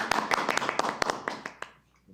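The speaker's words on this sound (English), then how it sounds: "A little applause." A small group at a city council meeting claps briefly, a couple of seconds of distinct close handclaps that thin out and stop.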